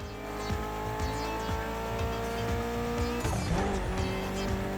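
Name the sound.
Evo car driving in The Crew Motorfest video game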